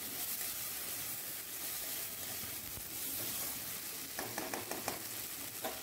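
Ginger paste being stirred and fried in a pan gives a soft, steady sizzle and hiss, with a few faint scraping stirs near the end and no talking.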